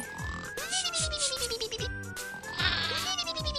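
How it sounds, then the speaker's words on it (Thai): Cartoon sheep bleating in an animated farm scene, several wavering bleats in quick succession over a busy music bed, close and fairly loud, with no talking. "ทันใดนั้นเองก็มีแกะที่ดูเท่ กิ้งเข้ามาหาสมชาย"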